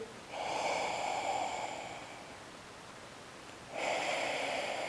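Slow breathing during a yoga pose in a pelvic floor flow: one long, close inhale or exhale through the nose, a pause, then another breath beginning, soft and clear with no talking.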